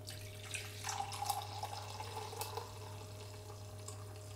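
Vegan bulletproof coffee, frothed with a hemp blender, poured into a cup: a soft, steady liquid pour with faint splashes, quiet and close, with a low steady hum underneath and no talking.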